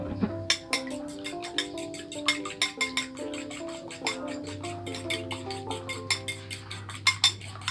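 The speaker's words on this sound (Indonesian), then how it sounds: "kalian kayak dadar telur biasa ya, dikocok lepas gitu" Eggs being whisked for a plain omelette: rapid, rhythmic metal-on-bowl clinks and taps, close and fairly loud, with a low steady hum underneath and no talking.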